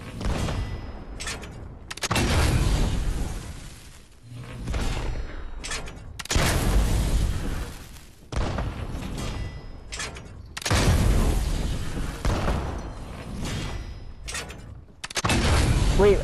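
Heavy cannon fire in a ship battle video game, a series of loud booming salvos with rolling thuds, each burst swelling and fading in a repeated pattern, with no voices over them.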